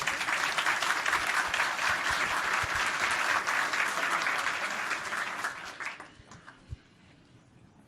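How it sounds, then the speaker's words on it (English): Audience applause at a Kotlin developer meetup, a dense, even round of clapping that tapers off and fades to near silence toward the end. "So thank you and applause."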